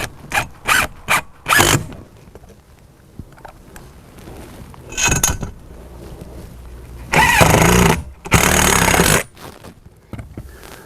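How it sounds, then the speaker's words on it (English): Power driver sinking #10 by 3 screws to fasten a bending tube onto a hoop bender on a 4x8 table: several quick short whirring bursts, then a pause, a lone burst, and two longer loud runs near the end. "We'll install the bending tube with number 10 by 3 screws."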